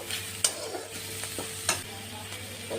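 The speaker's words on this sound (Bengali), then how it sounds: "আদা রসুন পেস্ট, আদা রসুনটা দিয়ে ভালো করে কষে নেব" Ginger garlic paste sautés in a pan for a prawn curry with greens, a low continuous sizzle broken by a few sharp clinks and scrapes of a spoon against the pan.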